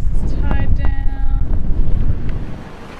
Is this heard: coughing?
no